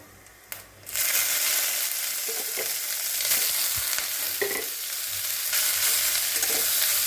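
Dried red chillies and black cumin hit hot oil with a sudden loud burst of sizzling that then holds as a dense, steady crackle, with faint clinks of a spoon and no talking.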